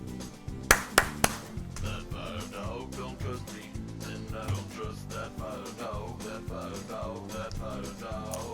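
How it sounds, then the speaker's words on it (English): Handclaps ring out in a song, two or three sharp claps near the start standing out above a steady, busy music backdrop that continues throughout. "the clapping part's coming up"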